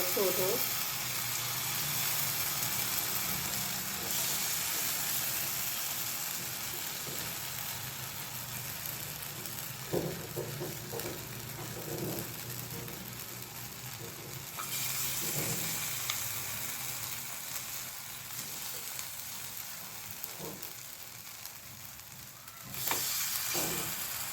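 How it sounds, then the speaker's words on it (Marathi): Pea appe batter sizzles steadily in an oiled appe pan, a continuous frying hiss throughout with occasional clinks and stirring sounds, while someone talks over it. "आप्पे पात्रात आधी थोडंसं तेल घालते आहे मी यामध्ये आपण मिश्रण घालून येणार"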